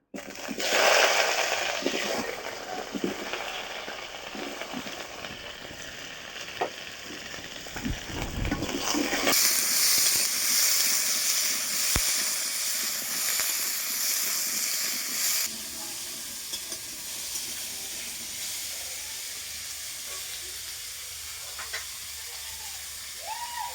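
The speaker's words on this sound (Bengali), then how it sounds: "এবার ভাজবো আমি কেটে রাখা টমেটো।" Loud hissing sizzle of chopped tomatoes frying in hot oil, strong at first then settling into a softer, steady crackle.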